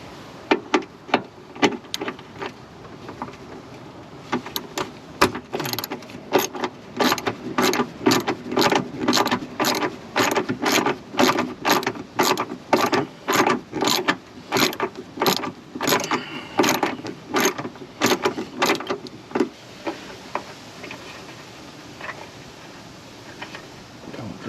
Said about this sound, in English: Remove the bolt that secures the ground strap from the inner fender.